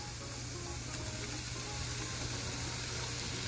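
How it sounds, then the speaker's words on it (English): Red capsicum, mushrooms and olives stir-frying in a pan give a steady, even sizzle with faint scraping of stirring, heard close and continuous with no voice. "I'm going to stir fry them for another 10 minutes"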